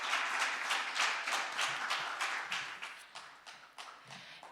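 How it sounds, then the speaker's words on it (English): Applause from a small audience for conference panelists at a patent law session, a modest group clapping with distinct individual claps, steady at first and then thinning toward the end. "Please give all the panelists a round of applause"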